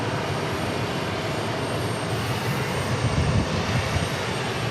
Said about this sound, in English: Next arrival will be American 1541, 737-800 from Las Vegas.